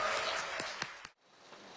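A crowd applauds president-elect Yoon Suk-yeol in a dense wash of clapping that is cut off abruptly near the end, leaving only faint room noise.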